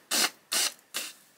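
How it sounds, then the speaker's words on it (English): A person blowing their nose in three short, forceful bursts of hissing air, close and fairly quiet, with brief pauses between them. "I just gotta blow my nose."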